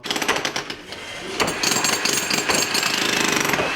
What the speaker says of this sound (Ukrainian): наразі робітники демонтують стару підлогу